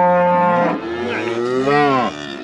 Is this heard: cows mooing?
yes